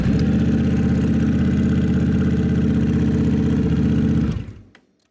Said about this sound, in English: Okay, let's start the bike,